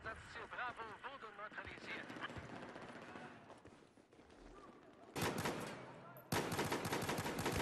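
Gunfire in Battlefield 4 multiplayer on Operation Metro in Conquest mode. A voice is heard early on, then two loud, sharp bursts of automatic fire break in near the end, close and dense.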